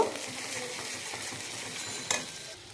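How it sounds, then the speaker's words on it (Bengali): Onion, ginger, garlic and chili paste sauté with whole garam masala in a pan for prawn malai curry, a close steady sizzle with stirring scrapes and one brief clink near the end. "এবার একটু ভালো করে কষিয়ে নেব, কাঁচা গন্ধটা চলে যাওয়া পর্যন্ত।"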